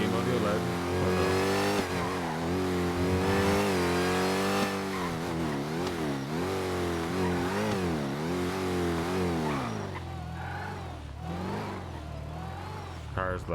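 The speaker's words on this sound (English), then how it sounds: "Car's louder than me." A car engine in GTA V on the NoPixel roleplay server revs loudly, its pitch repeatedly climbing and dropping through gear changes, with someone talking over the roar.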